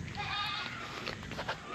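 Goats bleating at a riverside campsite along the Maramo River in Norzagaray, Bulacan, heard a little distant over steady outdoor ambience, with a brief higher cry standing out.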